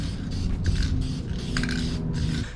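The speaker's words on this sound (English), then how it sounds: "So let's just get to spraying." Spray paint is applied to a car interior, a continuous close hiss over a low rumbling background for the whole stretch.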